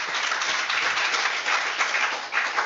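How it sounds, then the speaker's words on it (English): An audience at a sales talk claps in a brief, dense round of applause, moderately loud and continuous. "so you can clap."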